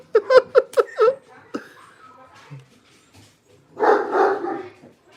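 Several dogs bark excitedly in a quick burst of about five sharp, close woofs at the start, followed by a softer yelp, then someone talks and laughs.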